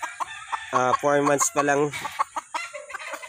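A four-month-old backyard gamefowl stag crows loudly and close in two drawn-out calls with a short gap between them, while someone speaks briefly before and after.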